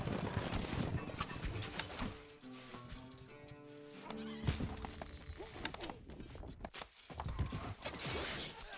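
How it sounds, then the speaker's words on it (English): Rhythmic hoofbeats of a galloping horse with a snort or whinny, mixed with Stronghold: Crusader Extreme sound effects and a brief lull midway. "الفرس تعدو"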